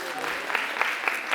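Applause from a concert audience greeting performers at a year-end studio show, a steady dense patter of many hands with a few sharper claps, held at an even moderate level throughout.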